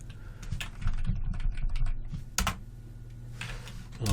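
Typing on a computer keyboard: close, uneven bursts of key clicks, with a dense run early, a sharp single clack midway and a few more keystrokes near the end.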